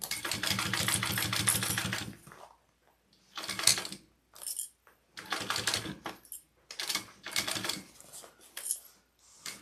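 A sewing machine stitches a Bartleby pattern in bursts: a long run of rapid mechanical clatter, then several short stops and starts, close and clear.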